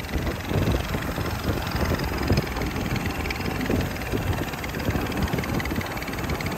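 Motorcycle exhaust fitted with a homemade dB killer, a steady, muffled engine rumble at moderate level running continuously without breaks or revving.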